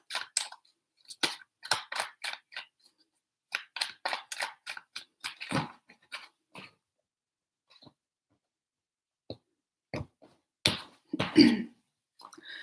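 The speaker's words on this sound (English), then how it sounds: "Three shuffles for Sagittarius." Tarot cards being shuffled by hand: a quick series of crisp papery riffles and taps comes in close, quiet bursts, then thins to a few isolated snaps, with no voices.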